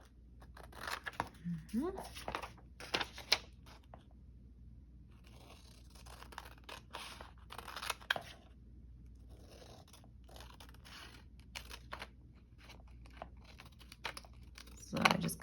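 Paper is cut into quarters with scissors to make a writing pad, giving a series of sharp snips, crinkles and scrapes at irregular intervals, fairly quiet, with a voice speaking briefly in between.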